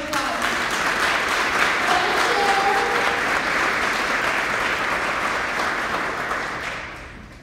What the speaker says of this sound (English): them a big round of applause